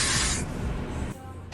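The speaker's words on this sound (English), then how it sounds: "But this time we're going to spray the lace." A short burst of spray hisses for about half a second onto the lace of a 13x6 frontal wig, followed by quieter handling noise and a brief second spritz near the end.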